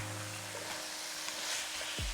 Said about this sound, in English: let these potatoes catch a little bit of heat and coat them in the oil so that they start cooking.